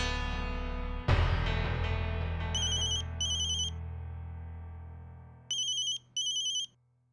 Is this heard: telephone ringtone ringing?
yes